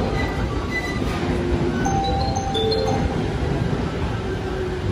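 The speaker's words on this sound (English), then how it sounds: "My train has came." A train pulls into a station in Japan with a continuous, rumbling roar of wheels and carriages, faint squealing tones from the rails and brakes rising over it, fairly loud and steady.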